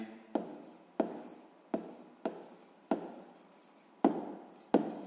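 A pen writes out a sixth-grade math answer on paper in a series of seven short, crisp scratching strokes, each starting sharply and then fading, close and clear with no voices.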